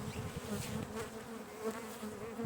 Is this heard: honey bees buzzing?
yes